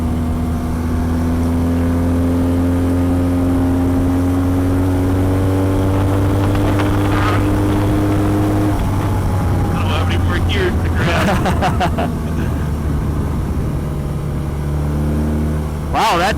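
A KTM 390 Duke single-cylinder motorcycle revs hard and accelerates, its rising engine tones climbing steadily before a shift and another pull, loud and close with wind rush, while riders talk over it.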